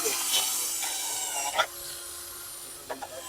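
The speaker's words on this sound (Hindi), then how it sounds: "और अब मैं इसको हैमर मोड पे डालना हूँ, साउंड चेक करें आप।" A cordless drill machine switched to hammer mode runs steadily with a bright, buzzing whine and gritty rattle, close and continuous, broken by a few brief sharp clicks.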